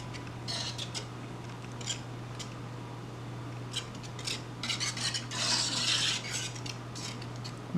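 Egg being stirred into a cooled homemade cheese sauce for macaroni and cheese, heard as a run of scraping, clinking spoon-against-bowl strokes, fairly close, with a steady low hum underneath and no talking.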